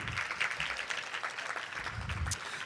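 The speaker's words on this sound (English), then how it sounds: "Can we all give them a round of applause for this great year, or day and a half we've had?" An audience of educators applauds Dr. Eaton and Dr. Pratt, a brief round of clapping with uneven bursts and faint voices mixed in.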